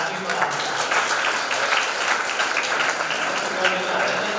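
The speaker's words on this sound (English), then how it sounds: "Clap for answer." Audience applause at a one-day continuing education programme, a steady wash of clapping that holds at an even level for a few seconds, with voices murmuring faintly underneath.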